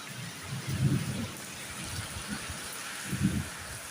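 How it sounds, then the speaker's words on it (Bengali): Rain falls steadily outside during a thunderstorm, a constant hiss with two low rumbles of thunder swelling and fading in the distance. "ঝড় হচ্ছে বাইরে"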